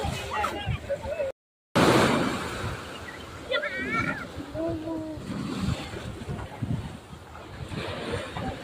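Big sea waves breaking at a beach, a steady nearby wash of surf and wind under scattered voices talking and calling.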